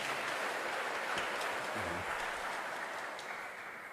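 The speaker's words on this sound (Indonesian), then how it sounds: "Oke, mari kita tepuk tangan untuk adik-adik ini." Soft, steady applause from a church congregation for children at a First Communion mass, a faint continuous patter of clapping that fades slightly toward the end.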